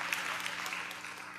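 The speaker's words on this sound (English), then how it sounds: "you can applaud" Audience applause at an annual lunch panel discussion, a dense steady wash of clapping filling the room for the whole brief moment, with no voices standing out.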